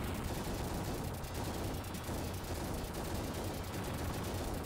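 Rapid continuous gunfire shooting at barrels in the Terminator 2 arcade video game on the Sega Genesis, a dense unbroken rattle of shots at moderate loudness throughout.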